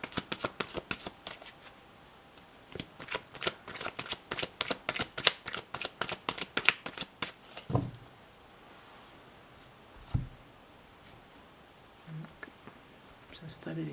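Tarot cards riffle-shuffled by hand in rapid, crisp flurries close by, followed by a few soft thumps and handling sounds as the deck is set down, with quiet whispered speech in places.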